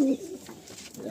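A Madrasi pigeon gives a brief, low coo up close inside a cage, followed by faint room noise.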